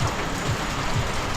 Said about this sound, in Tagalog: Ngayon, nag-ulan na naman.